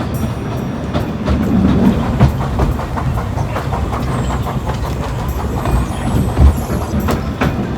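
A narrow gauge train on the Talyllyn Railway in Wales rumbles along steadily with rhythmic clattering of wheels on rails, loud and close, with no voices.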